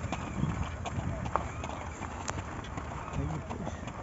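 Horses on a group trail ride clip-clop along at a walk, their hooves striking in an uneven repeating rhythm close by, with people talking over the steps.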